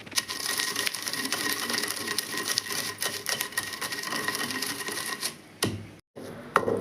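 Peanuts, coriander and cumin are pounded in a mortar with a rapid, close, rhythmic run of clacking, crunching strikes, broken by a brief pause near the end.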